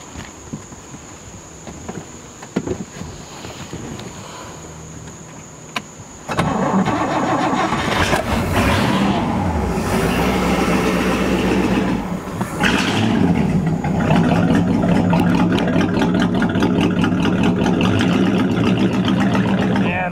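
A restored Century Resorter 17-foot hot rod boat engine cranks and catches, then settles into a loud, steady, rumbling idle close by.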